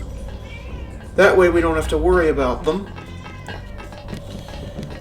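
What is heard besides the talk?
cat meowing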